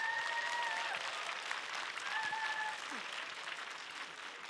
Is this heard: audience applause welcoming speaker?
yes